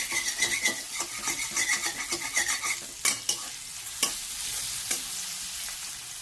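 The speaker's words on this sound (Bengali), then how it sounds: "সেই কুচানো পেঁয়াজটা এর মধ্যে দিয়ে পেঁয়াজটাকে একটু লাল লাল করে ভেজে নিচ্ছি" Finely chopped onion fries in hot oil, a bright steady sizzle with rapid scraping stirs early on, followed by a few sharp clacks of the spatula against the pan as the frying carries on.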